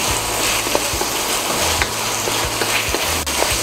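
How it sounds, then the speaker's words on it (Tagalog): Tomatoes are stirred into browned onions in a pan for Filipino chicken curry, with a continuous loud sizzle and repeated scraping strokes of the spoon against the pan. "lalagay na natin ang ating tomatoes. Yan, haluin lang natin"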